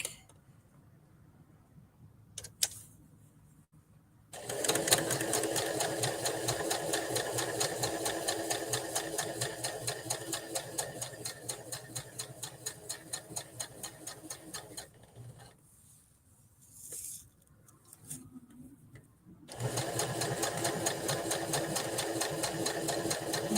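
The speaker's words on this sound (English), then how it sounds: "now to do the rolled hems on the black." A sewing machine stitches rolled hems on black fabric in several bursts, sewing in close, steady runs of rapid needle chatter with quiet pauses between them. A short slower section is followed by a final fast run.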